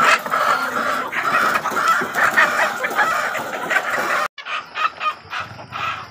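Layer hens on a poultry farm cluck steadily, with a rooster-like crow mixed in, a dense continuous flock chatter that drops briefly before resuming slightly thinner.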